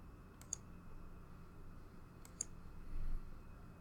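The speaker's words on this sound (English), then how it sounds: "clicking all the way." A computer mouse gives two quick pairs of faint clicks about two seconds apart while a line is traced, quiet against a soft room hum.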